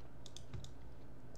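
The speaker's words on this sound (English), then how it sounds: "when I start typing something" A few soft, isolated clicks from a computer keyboard sound in a quiet room, several quick keystrokes in the first part and then a pause.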